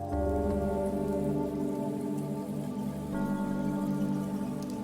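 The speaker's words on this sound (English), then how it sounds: "the only sound in the alley was the sound of the rain" Steady rain falls in an alley in the visual novel game Chaos;Child, a dense continuous patter that stays even and fairly loud throughout with no voices.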